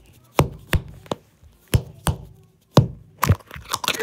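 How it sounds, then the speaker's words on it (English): A squishy toy dinosaur egg being cracked gives a series of sharp, crisp snapping crunches, about ten irregular close-up cracks, some in quick pairs, with no talking. "Now listen to the sound of me trying to crack this dinosaur egg."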